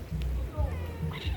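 A cat gives short meows close by at sunset outdoors, brief rising calls heard between a person's coaxing voice.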